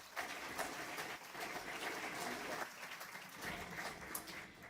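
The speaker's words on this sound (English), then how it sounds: "let's give a big round of applause to Dr." A school crowd at a ceremony honoring a collegiate academy gives steady, distant applause, a soft continuous patter of many hands clapping that holds evenly for several seconds.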